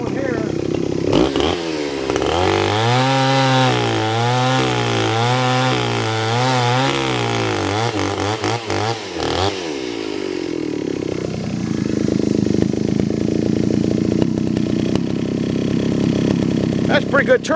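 A chainsaw cutting firewood rounds, its engine droning loudly and changing pitch as it revs and bogs into the wood, running steadily throughout the clip.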